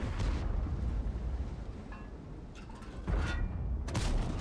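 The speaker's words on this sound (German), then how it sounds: "der T57 Heavy, der bekommt auch mal die Granate von dem Jagdtiger zu spüren" A Jagdtiger tank destroyer fires a shell in World of Tanks, with a deep sustained rumble and sharp cannon blasts near the end, loud and close with no voices.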